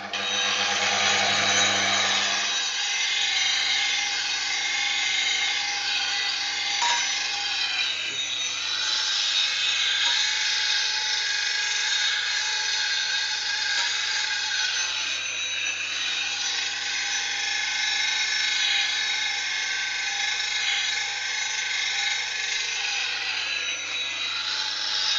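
A woodturning tool is sharpened at a sharpening station, giving a steady, continuous grinding whir that runs loudly and unchanged for the whole stretch, with no talk over it.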